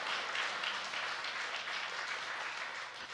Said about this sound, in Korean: 네, 한번 박수 좀 한번 쳐주세요.